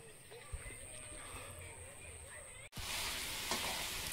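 Meat put on to cook sizzles in a pan; faint frying hiss with speech, then an abrupt jump to a louder, bright sizzling spatter close by.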